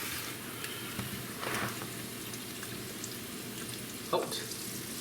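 Ham steak and home fries fry in butter in a pan with a soft, steady sizzle, a couple of brief louder crackles and stirring scrapes over it.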